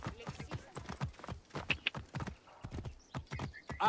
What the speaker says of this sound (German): Ich hole mal kurz ein Pferd.